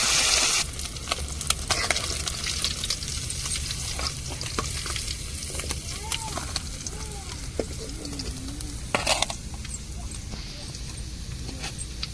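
Sardines fry in a pan in a steady, close sizzle that crackles and pops throughout, with occasional scrapes and clicks from stirring.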